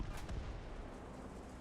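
Cannon fire in a naval battle video game: one deep booming shot at the start, then a rumbling fading tail, moderately quiet.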